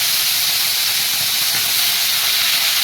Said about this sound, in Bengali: এই চলে গেল আমাদের চিংড়ি মাছ